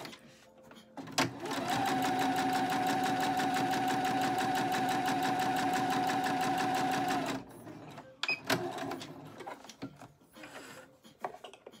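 A sewing machine stitches fabric for a hand sanitiser cover in one steady, loud run of about six seconds, followed by quieter handling of the cloth and the machine.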